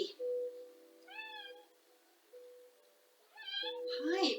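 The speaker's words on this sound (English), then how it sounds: "Hi, it's my kitty." A pet cat meows twice near the microphone, rising and falling calls separated by a pause, in a quiet room during a chair-based hatha yoga session.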